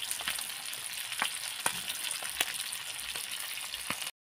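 Bagda fish frying in a hot pan gives a steady, dense sizzle and crackle. Sharp spitting pops break through now and then, with no talk over it.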